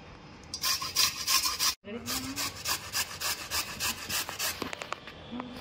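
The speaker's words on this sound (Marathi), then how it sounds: "असा बटाटा किसून घ्यायचा आहे, साल न काढताच किसायचा आहे।" An unpeeled, washed potato is rubbed against a metal grater in quick, rhythmic strokes. The rasping comes in steady bursts with one short break midway, close and fairly quiet.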